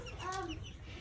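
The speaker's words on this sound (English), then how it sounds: "So these are chicks." Nearly grown young chickens cluck nearby on a farm, a few soft, quick calls in a short burst.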